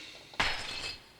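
A dropped glass shatters as an Amiga error sound, a single sudden crash followed by a short, bright tinkling decay that fades within a second.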